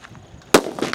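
A Mani Chocolate firecracker, a new Sivakasi cracker, goes off in daylight with one sharp, loud bang after a quiet moment, followed by a short crackling tail.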